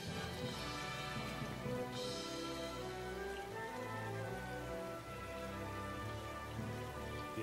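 Steady rain falling in a battle scene of the video game Kessen III, a constant hiss over low music and ambient tones, with no talk.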